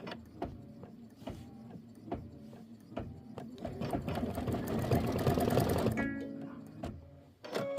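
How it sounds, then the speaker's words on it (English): A sewing machine stitching down a quilt banner runs in steady rapid mechanical bursts, rising to a continuous whir before stopping abruptly, close and moderately loud with no talk. "So I'm just going to go ahead and stitch it down."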